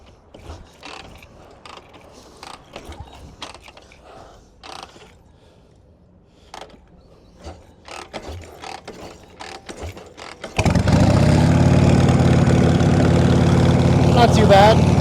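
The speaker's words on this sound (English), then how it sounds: "the kicker's been sticking with this new gear" A Harley Shovelhead motorcycle engine is kicked over with a sticking kick-start gear: scattered mechanical clicks and clunks come first, then the engine fires and settles into a loud, steady, close idle.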